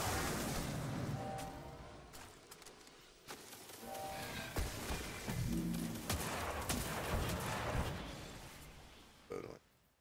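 Fusion rifle fire in Destiny 2, sharp charged blasts and bursts of gunfire mixed with game effects, with a player's voice talking over parts of it.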